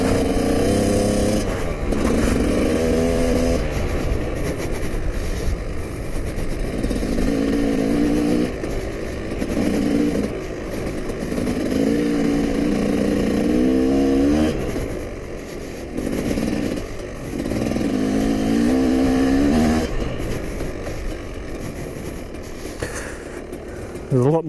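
A KTM motorcycle rides over soft beach sand, its engine close and loud, revs rising and falling in repeated surges as the rider works through the loose ground.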